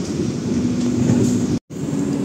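An Argo Parahyangan train runs straight through Cikarang station with a loud, steady rumble and a sustained tonal hum, cut by a brief gap before the roar resumes.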